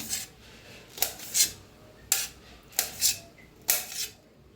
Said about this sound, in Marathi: मिरच्या पेक्षा लांबकळ्या कापून घ्यायच्या या पद्धतीने